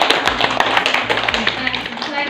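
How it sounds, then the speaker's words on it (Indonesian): Small group in a microteaching session clapping for a student, a short burst of quick, close hand claps layered with speech. "Tepuk tangan untuk Mbak Isa."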